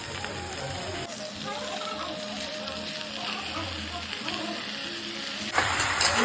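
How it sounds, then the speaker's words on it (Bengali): Fresh spinach drops into a pan of frying, partly boiled vegetables, giving a steady close sizzle and crackle with a stirring scrape, and a louder burst of hiss near the end. "সবজিগুলো ভালো করে ভাজা ও সেদ্ধ হয়ে গেছে এবার পালং শাকটা দিয়ে দিচ্ছি"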